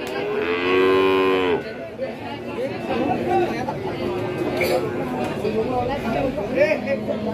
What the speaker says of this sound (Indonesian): Jenisnya limosin jantan. Ya, pedetan jantan limosin.